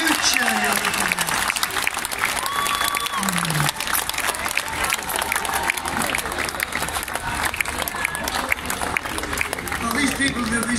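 Crowd applause at a concert, continuous dense clapping and cheering over a wide space, with a voice speaking and calling out over it throughout.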